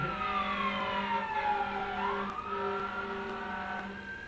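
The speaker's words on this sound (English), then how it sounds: "Hold on, because the ambulance is coming," An ambulance siren passes by, its wailing tone sliding down in pitch as it goes, loud and close with road traffic rumbling underneath.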